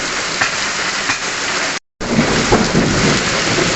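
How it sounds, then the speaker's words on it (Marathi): Very heavy rain pours down steadily in a thunderstorm, a dense loud roar of downpour on surfaces with a brief total dropout near the middle before the torrent resumes. "बरं इकडे अति मुसळधार पाऊस चालू झालेला आहे."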